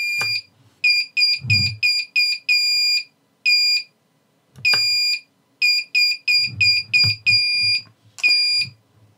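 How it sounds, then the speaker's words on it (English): A buzzer on a CC3D flight controller, triggered by a transmitter switch, sounds repeated sharp electronic beeps in short patterned bursts and a few longer tones, loud and close, with faint clicks between. "all I have to do to sound the buzzer is just flick the switch"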